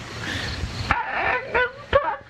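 A dog in the film Manos: The Hands of Fate gives a few sharp, close barks mixed with whimpering yips in short, uneven bursts.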